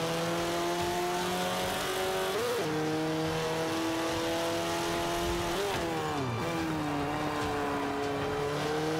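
A tuned race car in Forza 5 drives laps on default settings with a steady, droning engine tone that dips and climbs through gear shifts and corners, loud and continuous without talk.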